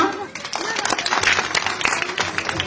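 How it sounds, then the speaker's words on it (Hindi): Loud applause from a crowd at a school inauguration ceremony, a dense run of claps lasting a few seconds with voices mixed in. "जोरदार तालियां।"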